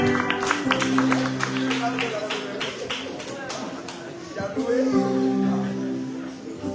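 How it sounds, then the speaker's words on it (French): Audience applause at a Haitian ceremony, a crowd clapping in a dense, steady patter of sharp claps under a sustained bed of voices and chatter. "On nous applaudit monsieur Zamor, s'il vous plaît."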